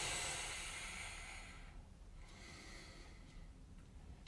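Breathing during a Pilates core exercise, a soft hissing exhale that fades out after about a second and a half, followed by quiet low breaths, close and faint with no talk.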